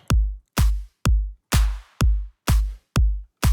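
A drum group parallel-compressed through a CLA-76 thumps steadily: eight punchy kick hits at an even pace, some layered with a bright snare crack, loud and upfront.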